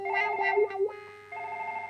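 A mobile phone plays an electronic ringtone melody, its bright tones ringing clearly, stopping briefly, then carrying on.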